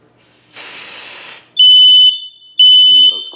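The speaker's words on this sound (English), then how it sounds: "next up we're going to do the smoke detector smoke test" A home smoke detector set off during a smoke test shrieks in two loud, sustained high-pitched bursts, following a hissing spray of test smoke.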